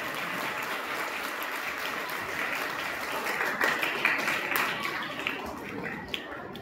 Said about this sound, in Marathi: आणखीन जोरात टाळ्या पाहिजेत पालकांच्या सुद्धा.